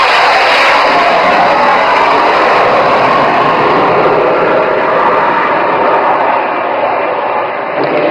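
A military jet roars loud and close during an air show overshoot, its engine noise a dense, sustained blast that fills the whole stretch and fades only slightly toward the end.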